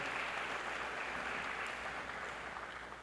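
Applause from an audience at an Indian Arrival Day celebration, a steady, fairly distant wash of clapping that holds for a few seconds before slowly fading.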